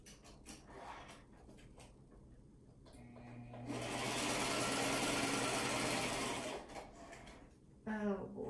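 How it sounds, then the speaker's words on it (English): A foot-pedal-driven sewing machine stitches paper crafts in one steady, close burst of about three seconds, with lighter handling clicks and a voice before and after. "let me sew this up"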